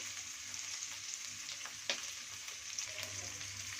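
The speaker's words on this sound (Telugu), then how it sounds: "ఆనియన్స్ వేసుకొని కొద్దిగా కరివేపాకు వేసుకోవాలి కొన్ని జీడిపప్పు కలుపులు" Onions, curry leaves and cashews fry gently in a pan with a soft, even sizzle, fairly faint and close, broken by a couple of light utensil knocks.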